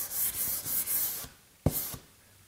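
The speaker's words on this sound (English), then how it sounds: "it just now needs a bit of a quick sand with some P1." Hand sanding of wood with P240 sandpaper on a wardrobe build makes a close, quiet run of rough rubbing strokes, then a short pause and one more stroke.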